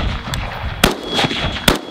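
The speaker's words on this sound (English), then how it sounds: "let's see if I can hit one of these targets in this maybe not so sighted in rifle" Rifle shots fired at targets outdoors, two sharp loud cracks about a second apart over a steady background hiss, with fainter pops between them.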